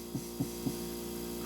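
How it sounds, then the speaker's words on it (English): A refrigerator hums steadily at close range, a low constant drone with three soft throbbing pulses near the start. "a humming refrigerator"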